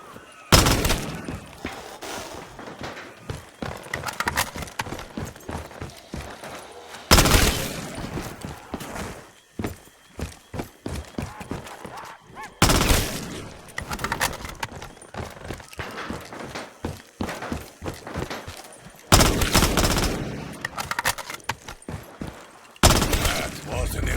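Gunfire from the Black Ops 3 Zombies map Shi No Numa, using Modern Warfare 2019 weapons, crackles in repeated loud bursts and rapid volleys over a steady busy game soundscape, with brief pauses between strings of shots.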